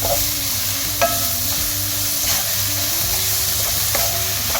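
Chopped onions and leeks sizzle steadily in a hot pan as a spoon stirs them, with a few scraping knocks against the pan over a constant close frying hiss.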